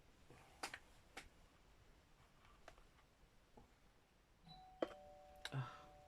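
A home doorbell sounds during a quiet stitching session, a short sustained electronic chime near the end after a few faint scattered taps and clicks; nobody speaks.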